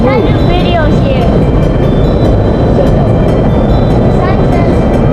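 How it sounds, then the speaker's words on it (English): Train rolling past as a steady, loud broadband rumble with continuous wheel and rail noise, with brief voices talking over it. "We just gotta wait for the train to move."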